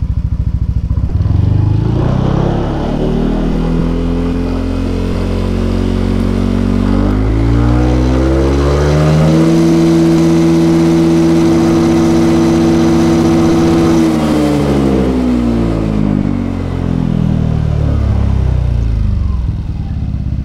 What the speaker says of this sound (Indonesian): Di posisi akselerasi atas pun suara knalpot standar racing dari ProSpeed itu juga masih masih terdengar lembut lah, bass lembut adem lah